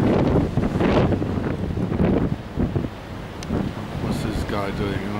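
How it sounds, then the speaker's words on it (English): Strong gusts buffet a handheld camera microphone outdoors on a street, rumbling and thumping in uneven bursts for several seconds, with faint distant voices underneath. "It's so windy, I can't keep my camera still."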